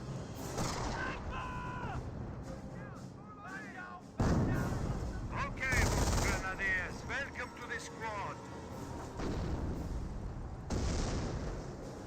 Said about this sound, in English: Here are some explosions.